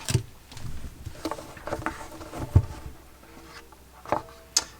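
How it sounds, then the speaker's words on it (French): Hands unboxing an Apple Watch Black Unity edition, close soft rustles, scrapes and light taps of packaging being handled, irregular and quiet, with a couple of sharper clicks near the end. "On va maintenant déballer la montre."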